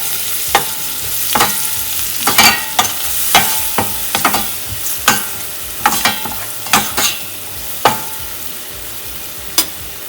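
Dabeli masala being stirred in a pan for kacchi dabeli, a spoon or spatula scraping in sharp, irregular strokes over a low sizzle, close and fairly loud with no talking.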